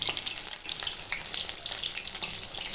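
Fritters frying in hot oil, a close, busy crackling sizzle with popping bursts throughout, no talk.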